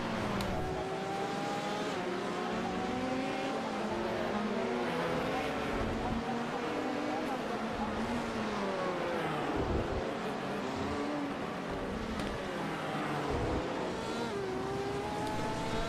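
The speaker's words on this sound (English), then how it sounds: "I just love the sound of that Corvette." Corvette race car engine at the 24 Hours of Spa, a loud, sustained roar with rising and falling pitch as it passes close by among other cars, continuous throughout.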